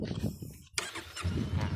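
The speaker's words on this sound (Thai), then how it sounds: "สตาร์ทรถ" A Honda Rebel motorcycle engine cranks with a sharp catch and fires up into a close, low idling rumble. Someone talks over the sound before and after it starts.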